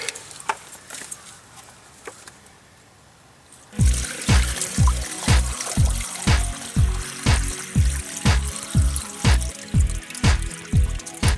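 River water dribbling through a filter made from an old pants leg into a small millbank, starting after a quiet stretch as a steady trickle with rhythmic splashing pulses, close and fairly loud.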